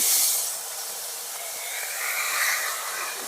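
Steamed banana flower sizzles loudly in hot oil, a steady bright hiss that surges at the start and again a little later.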